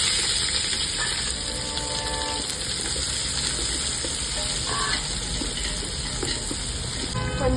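Onions and green chilies frying in a pan with whole spices for brinjal rice, a steady loud sizzle with faint stirring scrapes running throughout, no voices.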